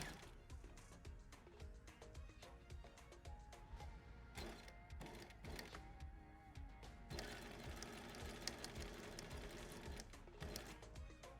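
A sewing machine stitches a dart in fabric, a quiet run of rapid mechanical needle clatter in short bursts that settles into a steadier whir, faint and close.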